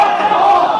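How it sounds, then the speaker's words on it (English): A women's rugby league crowd roars in a steady, continuous wall of shouting and jeering after a high shot, loud and close with no breaks. "The crowd very animated here"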